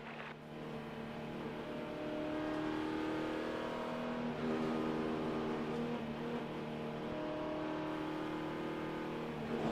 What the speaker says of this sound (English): Cars on pit road.